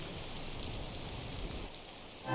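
Steady rain falls in Cities: Skylines II, a continuous even hiss of raindrops on surfaces at a moderate, constant level with no talk.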